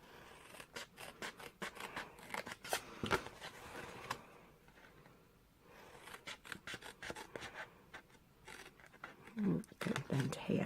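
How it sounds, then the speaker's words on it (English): Scissors cutting scored paper for a Stampin' Up advent calendar, a series of close, crisp snips and rasping paper slides in bursts, with a quiet pause midway and a brief faint vocal sound near the end. "So we're just going to cut down these score lines to that middle one."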